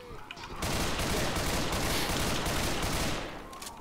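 Sustained burst of rapid gunfire in the video game Left 4 Dead 2, dense and loud for about three seconds, with faint game noise around it.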